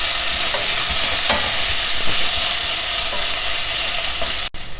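Finely chopped onion sautés in a pan for tomato poha, a loud, dense, steady sizzle with a few faint stirring knocks, cutting off abruptly near the end.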